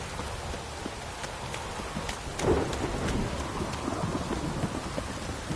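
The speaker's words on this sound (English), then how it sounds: "If it don't stop raining, my arse will rot off." Rain and thunder in The Witcher 3: a dense, continuous downpour with a deep thunder rumble swelling midway, then fading back into the steady rain.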